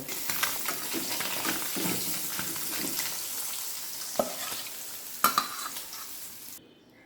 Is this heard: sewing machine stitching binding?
no